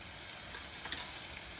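Rice frying in a pan with salt and turmeric, a soft steady sizzle with a brief scrape of stirring near the middle, fairly faint.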